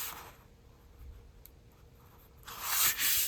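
Masterboard sheet being cut into four pieces: a soft scraping cut runs quietly at first, then a louder, rough tearing-like swipe of blade through board near the end, close up.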